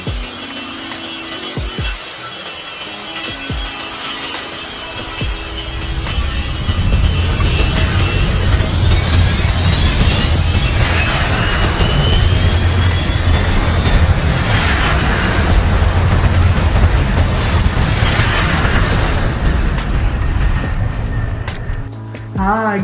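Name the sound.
airplane taking off from airport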